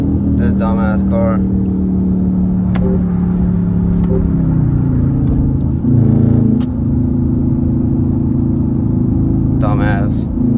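A car on the road during a two-hour drive, its engine and tyre rumble droning steadily and close inside the cabin, with brief higher noises and a voice talking over it.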